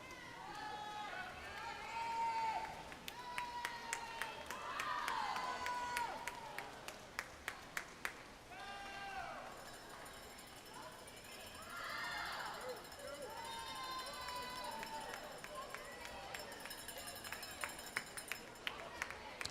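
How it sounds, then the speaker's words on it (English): A crowd at a high school varsity swimming and diving meet cheers steadily while a cowbell rattles in quick repeated bursts, with clapping and voices mixed into the lively indoor din and a person talking over it. "Everybody's excited. You can hear the cowbells going off."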